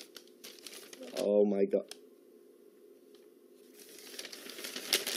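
Plastic wrapping on the last package inside a box crinkles and tears in one loud, close burst lasting under a second, while a person talks excitedly around it.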